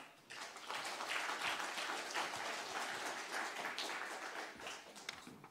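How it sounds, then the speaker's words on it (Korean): A church congregation applauds to welcome a guest pastor, a sustained burst of clapping that starts abruptly and runs steadily, fairly distant and soft in level. "우리 강사 목사님 나오실 때 큰 박수로 맞이하겠습니다"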